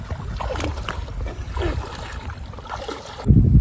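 A small boat glides along a river in the Sundarbans before sunrise, a soft steady wash of water and hull noise with a faint high whine, ending in a louder low rumble.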